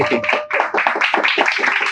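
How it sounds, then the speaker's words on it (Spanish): Audience applause for a speaker at a Spanish-language real estate and personal branding talk, a dense wash of many hands clapping, loud and steady, with slight swells in intensity. "Un gran aplauso a Juanpa Invierte, por favor"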